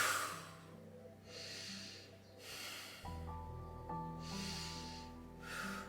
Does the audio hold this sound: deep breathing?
yes